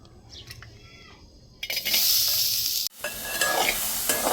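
Chopped onion hits a hot kadhai and sizzles loudly while being stirred for bhurji. A quiet stretch gives way to a sudden bright hiss, a short break, and then steady, close frying with scraping stirs.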